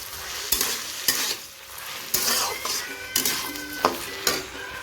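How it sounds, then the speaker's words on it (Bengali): Drained rice sizzles in a hot pan for bhuna khichuri, with a spatula scraping and stirring in regular strokes about once a second, close and steady. "এবার যে চালটা জল ঝরিয়ে রেখেছিলাম, চালটা এবার ভালো করে ভাজবো।"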